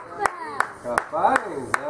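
Hand clapping in five sharp, evenly spaced claps, close and loud, with voices talking and exclaiming between them.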